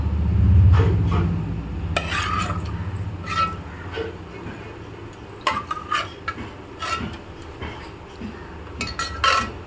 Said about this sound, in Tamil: எல்லாம் மீனையும் போட்டாச்சு